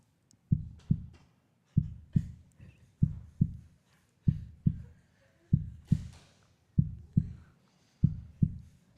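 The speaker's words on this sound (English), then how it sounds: "Get a little heartbeat going." A heartbeat sound effect plays during archery finals, a steady series of loud, close double thumps repeating throughout with no talk over it.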